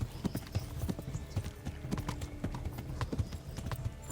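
Horse galloping in Kingdom Come: Deliverance during the siege of Skalice, a steady, close run of hoofbeats with faint background sounds beneath.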